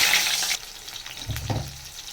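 Garlic and onion hit hot oil in a wok with a loud burst of sizzle that quickly drops to a quieter crackle, followed by a couple of dull clanks from the pan.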